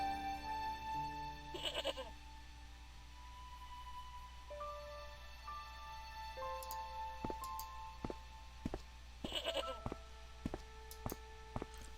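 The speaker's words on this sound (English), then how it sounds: "The rope by which the goat was tethered had become tangled on the old plowshare." A tethered goat bleating in the adventure video game Broken Sword: The Shadow of the Templars, several short bleats over a droning game soundtrack with tonal notes and scattered ticking clicks, no talking.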